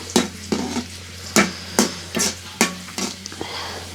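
Coconut pieces and chickpeas fry in ghee as a spoon scrapes through them in sharp, rhythmic strokes, roughly seven or eight close scrapes over a soft sizzling bed.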